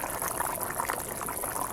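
Water at a rolling boil in a pot of homemade sardines, a dense, steady bubbling hiss heard close up with no pauses.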